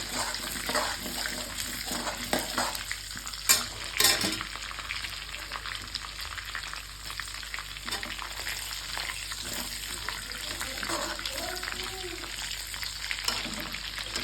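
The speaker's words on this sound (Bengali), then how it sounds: "এবার তেলের মধ্যে দিয়ে দেবো গোটা গরম মশলা ফোড়নে।" Whole garam masala spices sizzling in hot oil left from frying fish, a steady close crackle and hiss with a couple of brief sharper pops early on, no voices.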